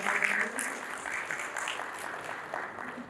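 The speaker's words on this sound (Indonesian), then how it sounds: "kita berikan aplaus" Audience applause at a school heads' coordination and evaluation meeting, a steady wash of clapping from many hands that holds through the whole stretch without a clear stop.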